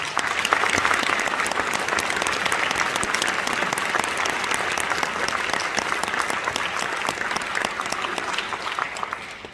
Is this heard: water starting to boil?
no